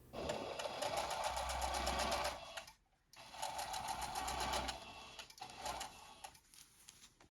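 A sewing machine stitches a hem around the edge of a fabric sleeve on a tank top, running in steady rapid bursts with brief pauses between runs, close and fairly quiet, with no talking.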